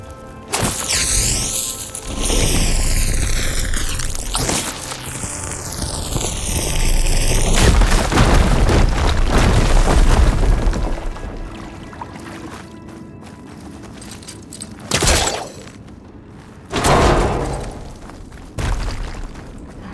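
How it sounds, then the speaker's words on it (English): A fire gleam blown up in Horizon Forbidden West, a heavy booming blast with sweeping, rumbling effects and swirling tones, followed by a few shorter bursts near the end. "Should be able to blow up that fire gleam."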